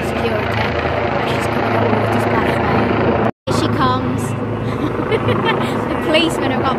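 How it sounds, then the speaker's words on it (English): A helicopter's steady rotor drone fills the air continuously overhead at Royal Ascot as the Queen passes in her carriage, with people talking over it and a brief dropout midway. "helicopter above, making a racket"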